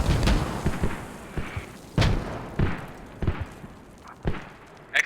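Mortar shells exploding in the video game Squad, landing on a flag position: a series of about six sharp, booming impacts spread across a few seconds, each rising out of a low rumbling background with no one talking.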